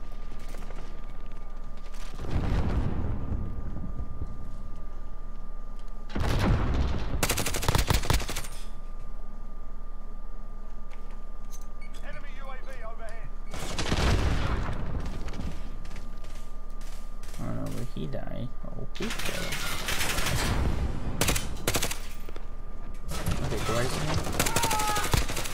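Bursts of video game gunfire from Call of Duty Modern Warfare multiplayer come in several loud broadband volleys spread across the stretch, over a steady background hum with occasional talk in between.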